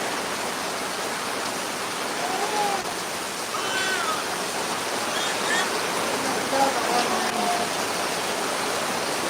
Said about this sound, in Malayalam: അപ്പോൾ ഇതാണ് ഇന്നത്തെ മഴൻ്റെ അവസ്ഥ നല്ല മഴ